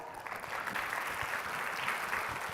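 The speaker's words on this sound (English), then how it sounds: "Big round of applause." Attendees at a financial planning seminar give a big round of applause, a continuous crowd of clapping that swells slightly and holds steady to the end.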